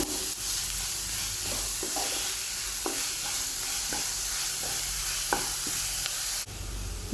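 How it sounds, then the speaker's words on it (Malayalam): Onions sauté in a pan with salt for bread masala, a steady broad hiss of frying punctuated by occasional soft clicks of a stirring spoon, close and continuous without speech. "ഉപ്പ് ചേർത്ത് കൊടുത്തിട്ടുണ്ട് നന്നായിട്ടൊന്ന് വഴറ്റി കൊടുക്കാം"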